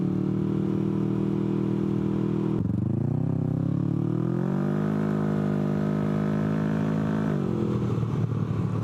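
Steady engine drone from a Can-Am Ryker three-wheeled motorcycle cruising on the road, its pitch rising and falling with gear changes, with constant wind rush over the rider and no talking.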